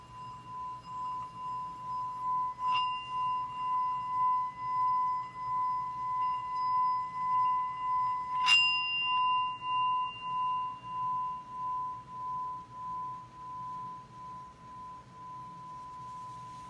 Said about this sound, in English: These bowls produce amazing tones